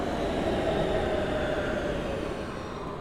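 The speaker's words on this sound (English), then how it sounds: "there are sounds for the subway now." In the life-simulation game Big Ambitions, a subway train gives off a steady rumbling roar with a faint tonal hum, constant throughout and easing slightly toward the end, with no voices.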